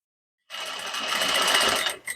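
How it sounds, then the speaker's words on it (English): A sewing machine stitches a dress seam and backstitch, running fast and steady at close range for about a second and a half before a short final burst. "I'll go ahead and sew up, and then back stitch"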